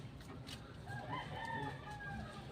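A rooster crows in a drawn-out, wavering call, fairly faint against a low background hum, with no talking.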